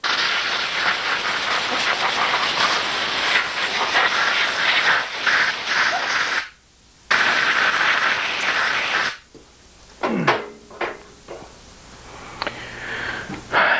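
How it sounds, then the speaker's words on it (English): An air compressor nozzle blows out a shotgun during cleaning: a loud, close, continuous hiss of air with a brief pause, then another burst, followed by quieter clatter and handling noises. "take the air compressor. I'm going to blow it out."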